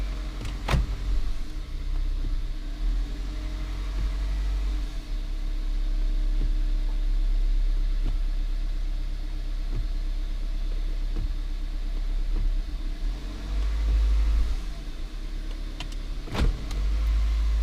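Toyota Matrix engine idling steadily while the car is run through its gears during a transmission fluid check, a low continuous hum with a few sharp clicks and knocks from the shifter.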